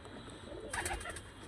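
Pet pigeons in a loft cooing, a faint soft coo breaking through quiet background hum near the middle, brief and fairly close.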